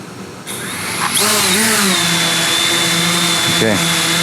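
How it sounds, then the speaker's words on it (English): A DJI Spark drone's propellers spin at idle, a steady high whine with a rising pitch that holds continuously close by, with a brief voice or tone sweep near the end. "the props are spinning"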